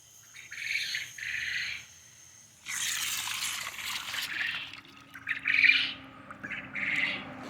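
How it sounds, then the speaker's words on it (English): Quail chirp in short bursts near a self-watering rain gutter garden, with a gentle trickle of running water underneath and a sharper call toward the end. "chirping that you hear is the quail"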